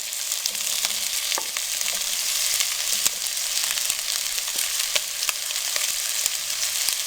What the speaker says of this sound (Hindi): अब इसके साथ हम कटी हुई प्याज डाल देंगे।